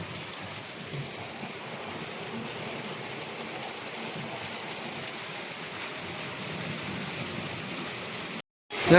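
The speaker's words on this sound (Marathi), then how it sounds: "आणि पाऊस सुद्धा आलाय" Rain falls steadily on the shore of a coastal fishing village in a windy storm, a soft, even hiss heard from a sheltered spot, ending in a brief gap and a sudden loud thump.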